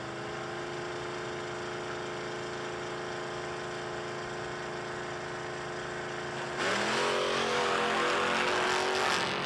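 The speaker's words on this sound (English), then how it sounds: "Walker in the Camaro. 716 dial in up against Zach Gosnell in that very quick roadster" Drag race cars, a Camaro and a roadster, idle with a loud, steady engine drone at a no-delay drag racing event. Partway through, the engines surge into a harsher, louder roar.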